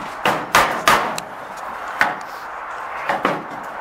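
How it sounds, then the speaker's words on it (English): Hammer blows knocking a knot out of a plywood sheet: sharp, close wooden knocks, a quick cluster of three, then a single strike and a final pair, fairly loud with quiet gaps between. "We're going to knock out this knot real quick."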